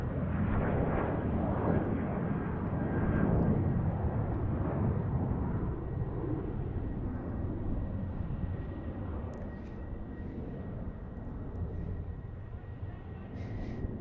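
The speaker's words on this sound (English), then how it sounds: "Southwest already taking off again" A Southwest airliner takes off from Tucson International Airport, its jet engines producing a broad, steady roar that swells early, then slowly fades into the distance.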